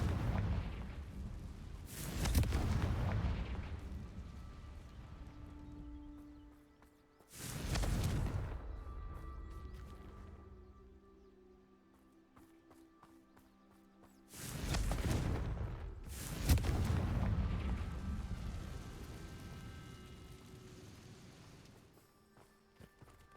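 Explosive Confringo spell blasts from the video game Hogwarts Legacy, three or four loud booming bursts spaced several seconds apart, each with a sharp onset and rumbling decay over a humming game backdrop.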